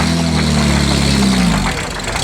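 A Jaguar D-Type sports racing car at the Concorso Villa d'Este runs its engine at close range with a loud, low throb that eases off near the end.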